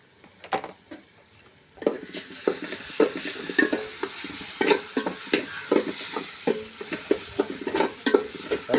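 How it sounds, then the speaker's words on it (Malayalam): Crushed ginger and garlic are stirred into frying onions for biryani: a quiet start with a few clicks, then a steady close sizzle broken by repeated spoon scrapes against the pan. "ഏകദേശം ഉള്ളി വാടി വരുന്ന സമയത്ത് നമുക്കൊരു 3 ടേബിൾ സ്പൂണ് ഇഞ്ചി വെളുത്തുള്ളി ചതക്കിയത് നമുക്കതിൽ ഇട്ടെടുക്കാം."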